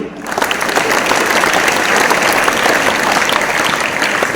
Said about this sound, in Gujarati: આ વિદ્યાર્થીઓને ખૂબ પ્રોત્સાહિત કરશું અને તાળીઓથી વધાવશું